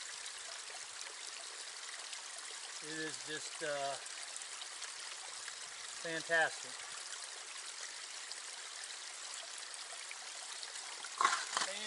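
Steady flowing mountain spring water on the Appalachian Trail rushes continuously close by, while someone speaks briefly a couple of times over it.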